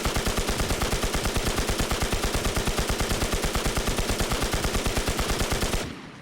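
Honey Badger rifle in the online survival shooter Infestation fires in a long, steady automatic burst, rapid evenly spaced shots close and loud for nearly six seconds before cutting off.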